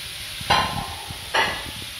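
Kefta meatballs for a tomato tagine sizzle steadily in a pan, with two sharp bursts of louder frying or stirring standing out over the constant low crackle.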